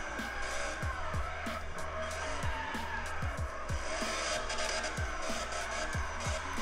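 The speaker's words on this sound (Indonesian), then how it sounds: "Lagi kalau pakai buat ngedrift gini ya" Car drifting in the racing game CarX Street, a continuous engine drone with repeated short tire squeals and chirps as it slides, steady and loud throughout.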